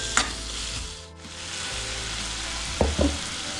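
Sliced onion frying in a pan, a loud continuous sizzle close by with a couple of stirring clunks from a spatula near the end, no talk.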